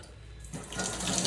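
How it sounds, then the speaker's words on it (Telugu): Water runs from a kitchen tap into a sink for hand washing after marinating chicken; the flow starts softly and then becomes a louder, steady splashing stream with no talking. "హ్యాండ్ వాష్ చేసుకో."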